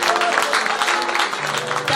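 A church congregation claps hands together in a dense, lively stream of close claps, steady and fairly loud over the whole stretch.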